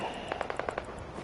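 Rapid burst of about six sharp gunshots in a post-apocalyptic wasteland video game, evenly spaced and crisp, fairly quiet and heard alone without talk.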